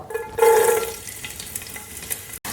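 Chopped garlic dropped into hot coconut oil for chilli chicken, a sudden sizzle that flares up then settles into a steady crackle with a stirring clatter, no talk.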